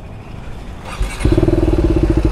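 A motorcycle engine cranks and catches, then settles into a loud, close, throbbing idle with quick pulsing rhythm and a slight rev.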